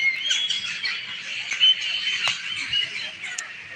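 A flock of crows caws and squawks continuously in open air, overlapping calls at a steady moderate level.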